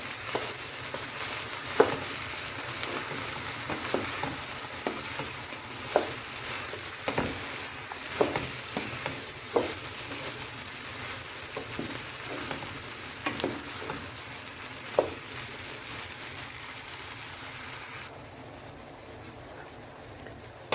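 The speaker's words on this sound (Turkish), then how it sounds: "şekilde mantarımızla tavuklarımız soteleniyor arkadaşlar." Steady sizzling of mushrooms and chicken sautéing in a pan, with scattered clicks and scrapes of stirring throughout, fading slightly toward the end.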